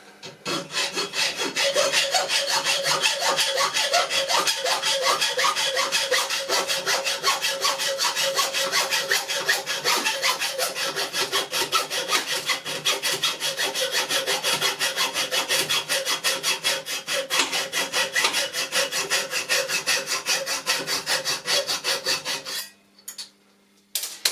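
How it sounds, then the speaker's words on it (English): Hand saw cutting with fast, steady back-and-forth strokes, loud and close, for over twenty seconds before stopping abruptly. "I don't want to saw into the hardened steel and ruin my new blade."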